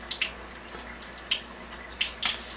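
Tap water running while a cleaning cartridge from a machine is rinsed, splashing and trickling in irregular bursts with small splatters, quiet and close, no talking.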